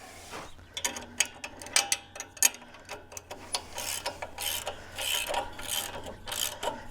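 A ratchet tightens something in a garden row, with rapid bursts of sharp clicking pawl strokes in repeated quick pulls, close and distinct.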